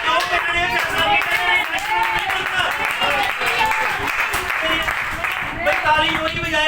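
A church congregation claps during a sermon, a continuous, dense round of applause mixed with voices and crowd noise throughout.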